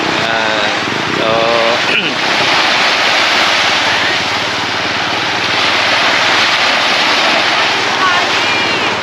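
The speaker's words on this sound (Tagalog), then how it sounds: "lakas ng alon ano?" Strong ocean waves at a beach produce a loud, continuous roaring wash that fills the scene, with brief chatter from people near the start.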